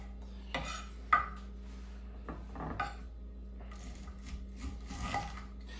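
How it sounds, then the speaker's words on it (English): A knife blade scraping down a vertically held corn cob, stripping off kernels in a few soft, brief scraping strokes with light clatter against a cutting board and dish, close and fairly quiet, with no talking. "removing the corn kernels from the cob, holding it vertically and just gently running your blade of knife down the edge of the"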